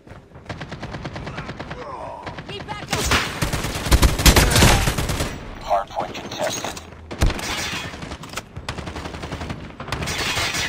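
Bursts of M4 LMG machine gun fire in a video game, loud rapid automatic strings with gaps between them and mixed with other in-game effects.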